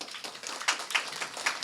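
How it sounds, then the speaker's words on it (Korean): Brief scattered clapping comes from a forum audience applauding a panel of five experts at a social services policy event. It is sparse and close, with a few sharp claps over roughly two seconds. "5분의 전문가분들께 다시 한번 큰 박수 부탁드립니다"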